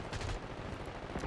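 A dense, muffled crackle of distant gunfire in Call of Duty: Black Ops 6 multiplayer, low and rumbling throughout a short moment with no clear individual shots standing out.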